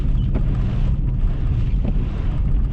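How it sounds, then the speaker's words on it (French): Strong wind gusts during a snow squall at minus three degrees in Ontario or Quebec roar and buffet the microphone with a heavy, continuous low rumble and no voices. "Ah, on a un petit peu de bourrasse, un petit peu de"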